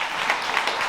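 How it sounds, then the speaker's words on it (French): A conference audience at a national gathering in Nantes applauds, a dense, steady wash of many hands clapping at moderate volume for a brief moment. "Applaudissez tout le monde, applaudissez-vous, merci."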